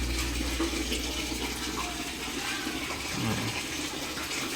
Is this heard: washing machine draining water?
yes